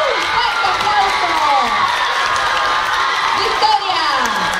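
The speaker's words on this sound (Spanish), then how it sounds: "¡Fuerte aplauso!" A large crowd at a K-pop contest awards ceremony in Latin America claps, cheers and shouts loudly and steadily throughout, with children's shrieks and whoops mixed into the dense roar.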